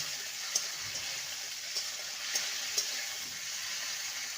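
Raw peanuts and soaked chickpeas fry in a pan, making a quiet, steady sizzle with a few small sharp pops and clicks scattered across it, with no voice.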